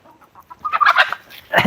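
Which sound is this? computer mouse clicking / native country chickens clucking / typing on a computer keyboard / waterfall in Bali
native country chickens clucking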